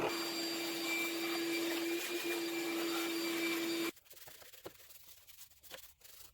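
A bench grinder motor hums steadily with a constant tone, running loudly for a few seconds, then cuts off abruptly, leaving faint rattles and quiet background noise.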